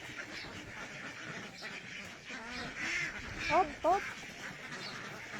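Domestic ducks give a few short quacks from close by at a farm, heard amid steady outdoor background noise while people talk nearby.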